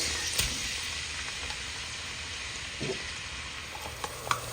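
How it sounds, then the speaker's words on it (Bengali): Onions fry in a pan as keema kulcha is made, giving a steady sizzle with a few light stirring clinks and taps, near and alone with no talk. "দিয়ে দিলাম পেঁয়াজ"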